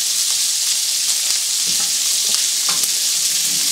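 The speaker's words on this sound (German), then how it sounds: "Ich tue einfach ein paar Zwiebeln rein und das obligatorische Speck." Onions and bacon fry in a pan, a loud, dense sizzle close up with scattered stirring scrapes and pops, and no voices.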